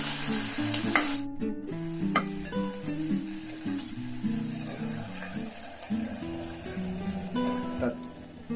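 Mustard seeds, cumin, curry leaves and crushed chillies crackle in hot oil for a yogurt sambar tempering, a dense, steady sizzle up close with scattered pops and a voice talking underneath.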